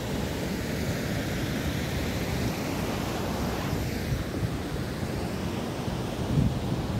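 Usri waterfall in Giridih, Jharkhand, a steady broadband roar of rushing water, constant and fairly close throughout with slight wind buffeting on the microphone and no talk.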